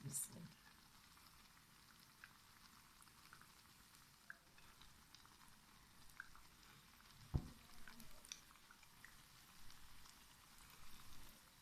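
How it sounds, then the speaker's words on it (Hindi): Green chili pakoras frying in hot oil give a soft, steady sizzle and gentle bubbling at low volume, with a few brief clicks and one sharp knock partway through. "एक दो मिनट हो गए हैं इसको फ्राई होते हुए"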